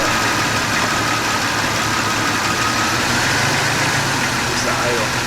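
A Jeep Cherokee XJ engine idles steadily and loudly up close, a continuous rumbling drone during A/C troubleshooting, with a voice talking over it at times.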